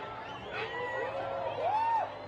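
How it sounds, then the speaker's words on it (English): Excited crowd at a solar eclipse viewing, distant cheering and a rising whoop or whistle-like voice over a murmur of voices, moderately loud and building briefly. "The crowd, all around us, completely electric."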